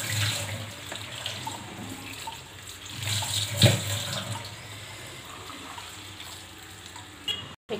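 Ingredients are rinsed under a running kitchen tap while an achar is being made, giving a steady splashing stream that persists for several seconds with one brief sharper splash midway, then cuts off abruptly at the end.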